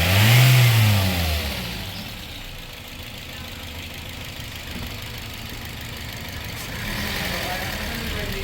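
A Toyota 2NZ-FE car engine with a noisy fault revs sharply at the start, then settles into a rough, steady idle. Voices call out briefly over it.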